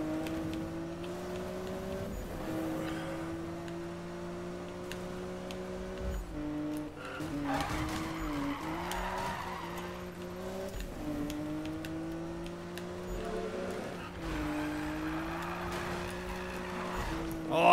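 Nissan Skyline in the Need for Speed video game, its engine droning steadily and rising and falling in pitch as it drives on, loud and continuous, with brief scrappy tyre noise mid-run.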